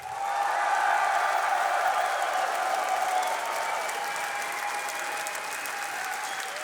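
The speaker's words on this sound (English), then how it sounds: "give a big round of applause to the team Alliance" Steady applause from a large esports audience at a Dota 2 grand final, sustained and even throughout with a slight fade toward the end.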